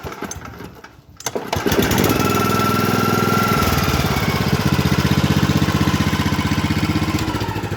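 Snapper walk-behind lawn mower engine pulled into life by its cord: a short silence, then the small engine catches at about one second and settles into a loud, steady near idle with a rhythmic chug.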